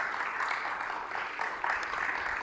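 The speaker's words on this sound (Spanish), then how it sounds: "vamos a recibir con un aplauso a nuestro pastor Víctor Achila" A church congregation claps to welcome its pastor, Víctor Achila: a steady, even wash of applause that holds at a moderate level for the whole stretch, with no voices standing out.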